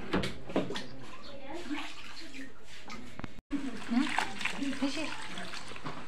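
Water splashes and sloshes close by as pumpkin flowers and leaves fresh from the garden are washed, in irregular bursts of splashing and trickling with a brief gap midway.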